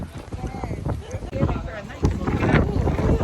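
Boat ride off San Pedro, Belize, with heavy wind buffeting the microphone and a steady engine and water rush beneath; a voice talks briefly over the noise.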